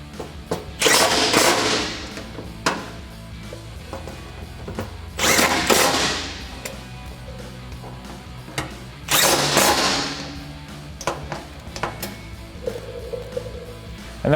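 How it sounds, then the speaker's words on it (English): Power tool driving a 5mm Allen bit to tighten bolts on a Barricade HD skid plate for a 2018-2020 Ford F-150, heard as three loud whirring bursts of a few seconds each, separated by quieter pauses with light clatter. "we can take a 5mm Allen bit to tighten down our bolts"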